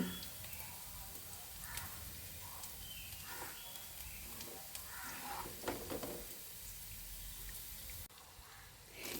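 Ivy gourd (kovakka) frying in oil, a continuous soft sizzle with occasional stirring clinks, steady and close throughout.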